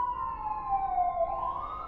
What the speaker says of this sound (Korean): 갑자기 근처에 국도를 달리는 경찰차의 사이렌 소리가 울려 퍼지고 있었다.